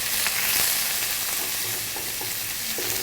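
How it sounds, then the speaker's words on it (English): Food sautés in a pan with a steady, close sizzle, broken now and then by soft spoon scrapes and stirring clicks; no one speaks. "So this should saute."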